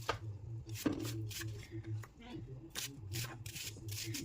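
A knife chops food on a board in quick, irregular bursts of sharp taps, close by, with a voice murmuring beneath.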